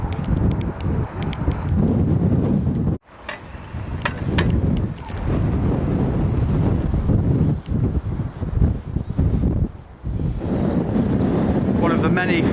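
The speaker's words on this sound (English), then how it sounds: "We've now arrived at Katyn Bay, one of the finest bays and finest beaches in Yorkshire" Wind and surf on the beach at Cayton Bay, Yorkshire. Heavy gusting wind buffets the microphone over a steady wash of waves, with a brief drop-out partway through and some talk mixed in.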